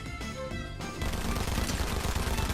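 Rapid bursts of gunfire crackle from Fortnite, a quick pattern of shots, then a denser continuous spray of automatic fire at moderate volume.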